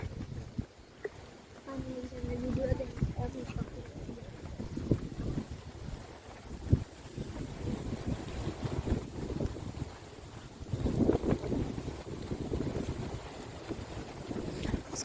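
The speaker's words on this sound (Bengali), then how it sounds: "প্রচুর বাতাস এখানে বাতাসের জন্য আজকে মাছ মারা কষ্ট হয়ে যাচ্ছে" Strong wind buffets the microphone beside a fish farm pond, a gusty low rumble that swells and fades in uneven surges, loudest around the middle and later stretch.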